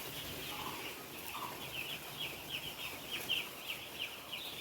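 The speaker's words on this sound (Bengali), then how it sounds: "মুরগি পুরো অ্যাক্টিভ আছে," Chickens in a brooding house cluck in short, repeated bursts over a constant room hum, several birds at moderate distance with irregular rhythm and no talk.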